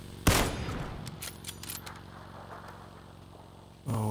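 A single sharp gunshot rings out in the PUBG video game near a compound by the road, a loud crack that decays into a long rumbling tail, with a burst of louder noise returning at the very end.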